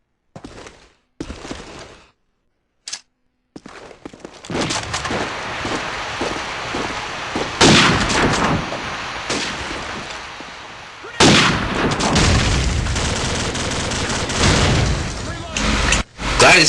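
Bursts of gunfire and booms during a four-versus-four Call of Duty 4 bomb match, crackling intermittently and then more steadily beneath continuous talking.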